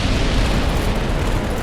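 A boss's missile attack exploding in Dark Souls: a dense, loud, continuous roaring blast that fills the whole short moment with no gaps.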